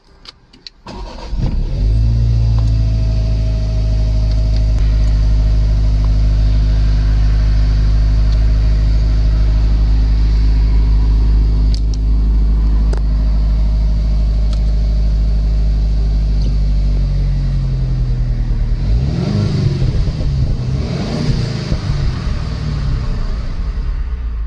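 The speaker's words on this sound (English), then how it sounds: "I will be driving this Lexus LC, the grey coupe in particular" A grey Lexus LC500 coupe's engine starts with a brief burst and then settles into a loud, steady low rumble at idle for about twenty seconds, followed by a few rising revs near the end, with no one talking.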